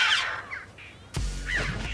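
Crows mob a threat with harsh, aggressive alarm cries, several raucous squawks and caws in quick succession at close range, broken by a sharp burst of noise partway through.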